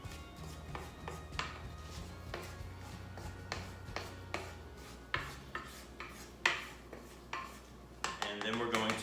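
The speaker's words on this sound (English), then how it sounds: "I'm going to scrape the sides again" A spatula scrapes around the sides of a mixing bowl holding whipped Linzer cookie dough, making repeated soft scrapes and light clinks in an irregular rhythm, close and fairly quiet.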